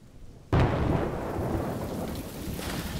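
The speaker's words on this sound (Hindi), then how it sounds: "बारिश।" Rain and thunder from a cartoon sleep-sound machine: after a short quiet moment, a loud thunder crack bursts in, followed by steady heavy rain pattering alone.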